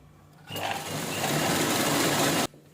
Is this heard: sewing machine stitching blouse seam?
yes